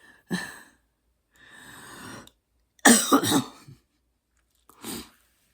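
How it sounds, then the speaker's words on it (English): A single person coughs and breathes heavily close by, with a harsh cough burst in the middle between a sigh and a shorter cough. "there might be some coughing"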